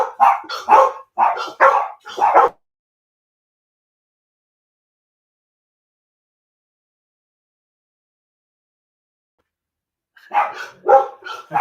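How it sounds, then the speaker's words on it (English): Several dogs bark at a delivery driver arriving with a Christmas package, a loud close burst of repeated barks, then silence, then another short volley of barking. "I think my dogs decided that they needed to protect me from the delivery driver."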